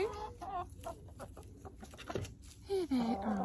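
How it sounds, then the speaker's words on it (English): Backyard hens let out of their coop in the morning, clucking softly and murmuring close by, with several short calls and a louder rising cluck near the end, amid faint rustling. "I think that sound that hens make is really soothing."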